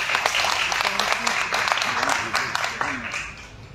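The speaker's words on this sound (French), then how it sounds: "Vous pouvez l'applaudir, s'il vous plaît." An audience at a panel discussion on biodiversity in the Comores applauds a speaker, a steady patter of many hands clapping at moderate distance, with a voice talking over it.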